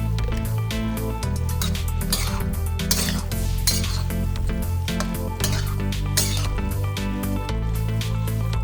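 A spoon mixing spiced chicken in a pan for an Andhra-style chicken fry, giving repeated scraping clinks and soft squishy stirring. The strokes come in a quick, irregular rhythm, close up and fairly loud.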